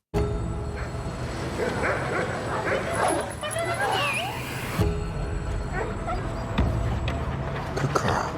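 An angry dog barks, yips and whimpers in a film scene, close and repeated in bursts over a busy background, with people talking through much of it.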